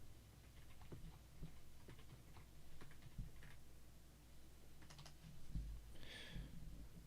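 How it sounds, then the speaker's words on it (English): Regular typing on an Epomaker RT100 keyboard with silent switches gives soft, muted key taps in an uneven rhythm, quiet and close, heard alone with light room noise. "This is regular typing."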